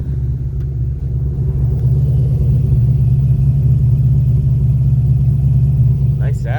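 A 1967 Ford Mustang Fastback's 302 V8 idles with a steady, deep rumbling burble, loud and close, holding an even tone throughout the few seconds.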